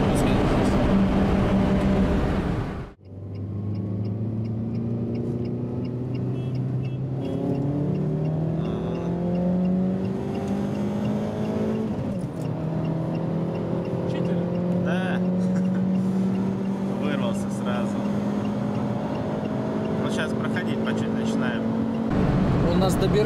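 A Lada Priora 2 races a Kia Cerato 2.0 automatic in a street race, and the engine climbs steadily in fourth gear. The revs rise loud and close, with one gear change partway through, while people talk over it.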